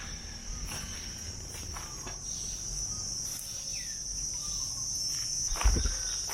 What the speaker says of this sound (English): There's a lot of noise with the cicadas or these insects buzzing around